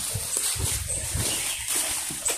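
Dogs barking outdoors during a walk through a rural area, a few short barks rising over a steady background hiss, moderately distant.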